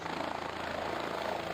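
A cartoon helicopter flies during a flood rescue in an animated village story, its steady rotor and engine drone filling the short stretch with no talk.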